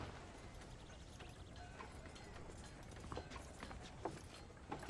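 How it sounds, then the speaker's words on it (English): Horse hooves clip-clop steadily in Red Dead Redemption, faint and somewhat distant beneath a wash of outdoor ambience, with a few sharper hoof strikes toward the end. "Get those horses moving."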